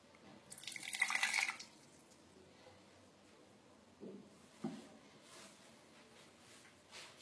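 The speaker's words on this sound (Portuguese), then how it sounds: "Vou jogar mais um pouquinho de água." Filtered water poured from a container into chapati dough while kneading, a short splashing pour near the start followed by quiet handling thuds of the dough.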